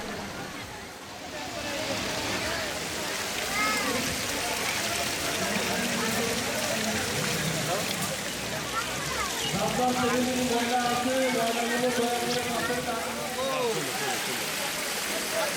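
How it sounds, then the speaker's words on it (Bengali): A fountain splashes beside a lake in a park resort, giving a steady, full rushing and pattering of water throughout, with faint voices and a brief tonal sound partway through. "পাশের এই ঝর্ণাটা এই লেকের সৌন্দর্যটাকে আরও বাড়িয়ে তুলেছে"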